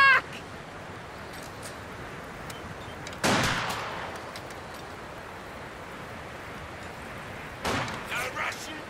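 Scattered gunfire in Company of Heroes 2, a World War II real-time strategy game with Soviet forces returning fire: a sharp, loud burst midway and a shorter cluster of shots near the end, set against a quiet battlefield hum.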